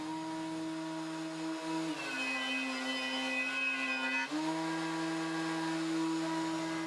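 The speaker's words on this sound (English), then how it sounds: "I used a bunch of wedges and a planer sled to get one side perfectly flat." A power planer runs steadily on a wooden board held flat on a sled with wedges, its motor whine dipping in pitch as the cut loads it mid-pass and then recovering; a loud, continuous close-up whir with no talk.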